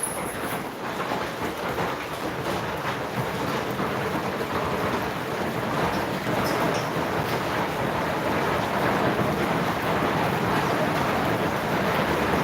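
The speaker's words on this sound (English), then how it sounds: "Oh wow, they're big rocks. Big hail rocks. Can you guys hear them?" Large hailstones pelt down outside during a storm, a dense, continuous roar of impacts that stays steady and loud throughout, with no voices.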